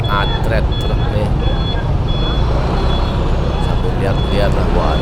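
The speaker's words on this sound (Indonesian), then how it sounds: "Stop, ada yang atret truk nih." A truck reverses on a city street in Bandar Lampung, its steady, evenly spaced reversing beeps sounding clearly over loud, continuous traffic and engine rumble, with a voice speaking briefly at times.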